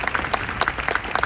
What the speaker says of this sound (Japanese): 大きな拍手をありがとうございました